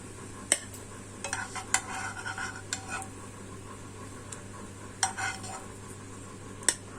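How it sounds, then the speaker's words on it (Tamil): A cooked mini rava uttapam, hotel style and finished with a little ghee, is lifted off a hot pan with a few sharp metal scrapes and taps over a faint steady sizzle, close by. "நல்லா வெந்திருச்சு. ஊத்தாப்பம் எடுத்துருவோம்."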